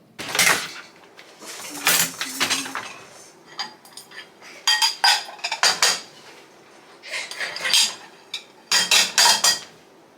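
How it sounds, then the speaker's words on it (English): Dishes, pots, pans and cutlery being put away in a home kitchen: repeated clattering, clinking and knocking of crockery and metal in irregular bursts, close and fairly loud, with brief pauses between handling. "I might as well get some dishes put away."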